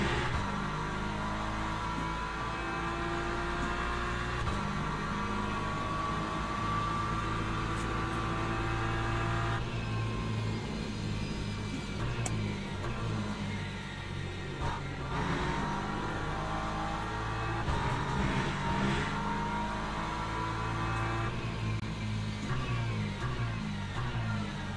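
Race car engines in the Le Mans Ultimate sim, a Ferrari and Porsche among GT3 cars, drone continuously and loud, rising and falling with revs and gear changes as the pack runs close together.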